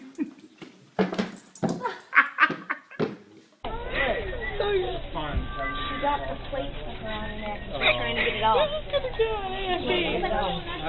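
A puppy whimpers in high, thin cries, after several seconds of a person talking. The whimpering continues steadily against a dense, close background of other sounds.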